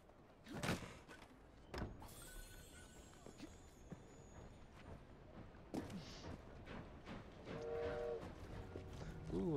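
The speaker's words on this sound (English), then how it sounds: "Ooh, I hear a choo-choo train." A video game steam train chuffs and clanks along in the background, quiet and intermittent, with scattered mechanical knocks and a rising rhythmic rattle near the end.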